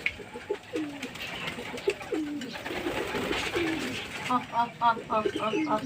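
Repeated low pigeon coos nearby, joined near the end by quicker higher chirps, with some background noise throughout.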